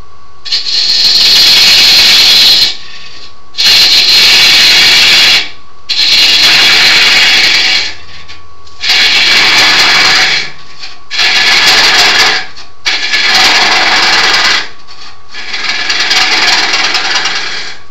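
A 3/8 gouge cuts a large wooden serving bowl spinning on a lathe, giving a loud, hissing shear in seven long passes of about two seconds each, separated by brief pauses over a steady motor hum.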